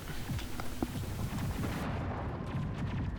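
Sniper rifle fire in the video game Mass Effect: a dense, rumbling burst of gunfire with sharp cracks standing out, fairly loud and continuous across the moment, with no talk over it.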